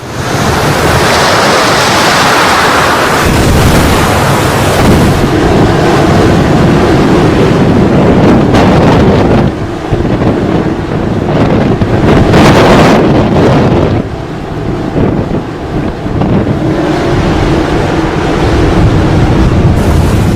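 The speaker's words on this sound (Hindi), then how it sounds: "आंध्र प्रदेश, तमिलनाडु, जहां ऊंची ऊंची लहरें उठ रही।" Loud, high waves crash continuously along the Andhra Pradesh and Tamil Nadu coast during Cyclone Ditwah, with heavy surf roar and strong gusting wind buffeting the microphone throughout.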